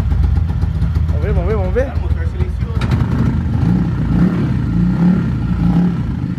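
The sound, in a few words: Honda CG 150 motorcycle with 240cc kit, engine running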